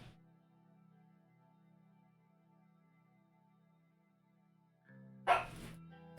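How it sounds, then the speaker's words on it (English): Dogs barking in the strategy game Suzerain, a short loud burst of barks near the end, breaking a quiet, steady background hum. "here go the dogs again"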